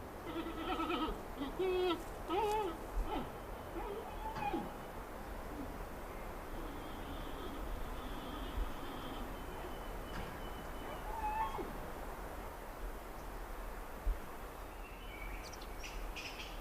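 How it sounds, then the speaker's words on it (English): Wild giant pandas give loud bleating and chirping calls in a mountain forest, a few tonal cries repeated over a steady rustling background, with several close calls early on and another later. "the sound of loud bleating and chirping raises hopes of a chance to get close enough to"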